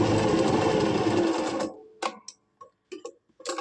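A sewing machine whirs steadily for under two seconds while stitching along a kameez neckline, then stops, leaving a few close, sharp clicks and fabric-handling taps.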